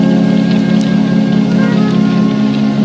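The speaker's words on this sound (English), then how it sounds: "It's still raining." Steady rain falls as a loud, constant hiss and patter with no pauses, close and unbroken throughout.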